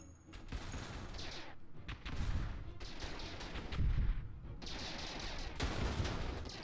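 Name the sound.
artillery cannon fire in video game Stardrive 2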